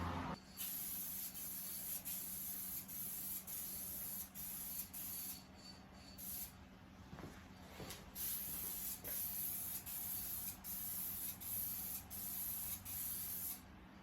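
A faint, steady aerosol hiss sprays a protective coat onto the headlight of a 2005 Toyota Tundra, continuous with brief pauses and small clicks, heard close and quiet.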